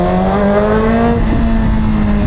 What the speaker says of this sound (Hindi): जिक्सर का साउंड एक्रा पोवेक या योशिमुरा के साथ कमाल।